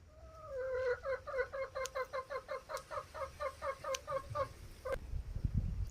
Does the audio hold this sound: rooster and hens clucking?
yes